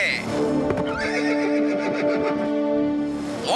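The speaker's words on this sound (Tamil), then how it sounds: "அப்புறம் மோட்டோட குதிரை திரும்பவும் மோட்டு கிட்ட ஓடுது" A cartoon horse whinnies loudly, then hooves clip-clop in a steady galloping rhythm as it runs back, ending with another neigh, all close and prominent over a music bed.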